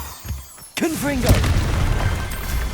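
A Confringo blasting spell explodes in the Hogwarts Legacy video game, a sharp boom followed by a sustained fiery rumble and crackle, up close and loud, with a spoken voice under the blast.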